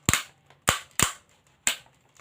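A toy grasshopper from A Bug's Life gives four sharp, loud snapping clicks in an uneven rhythm, close and alone.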